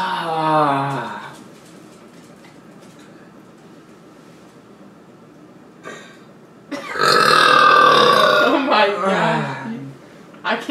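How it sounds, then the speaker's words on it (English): A person sucking in air and then burping, a long, loud croaking belch with rough, wavering tone after a short gulping intake, voices heard around it. "The first start is me sucking in the air. The second part is me burping."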